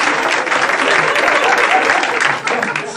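A television talk show studio audience breaks into loud, sustained applause, a thick, even roar of many hands clapping close by for the whole moment.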